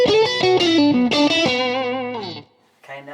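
Distorted electric guitar runs through a pedal as its input gain is raised on a TheGigRig G2, playing a descending melodic line with sustained notes that fade before a brief final note returns.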